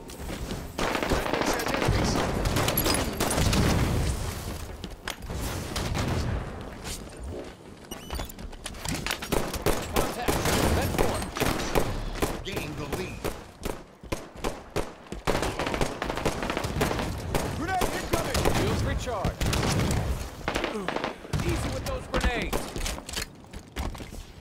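Rapid gunfire in the shooter Halo 5, with bursts of sharp cracks and popping shots that come in uneven clusters across the stretch, loud and close, and a voice speaks faintly beneath in places.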